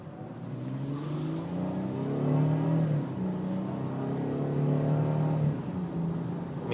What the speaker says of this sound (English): This car does not have any problems accelerating whatsoever.